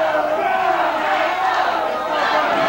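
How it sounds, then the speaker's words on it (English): A wrestling crowd at a live independent show yells and chants steadily, a dense wash of many voices filling the room without pause. "The crowd begins to yell and chant"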